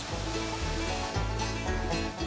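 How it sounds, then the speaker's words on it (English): Waterfall inside the mine ride at Knott's Berry Farm, a dense, continuous rush of falling water under a looping low musical soundtrack, steady and fairly loud throughout. "Waterfalls."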